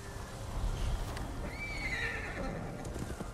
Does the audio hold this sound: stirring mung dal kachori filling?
no